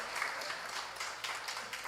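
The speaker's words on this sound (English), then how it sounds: "I want to also give Shrishti a round of applause." Soft, fairly distant round of applause from a small audience at a Sunday morning satsang, steady scattered clapping for a couple of seconds.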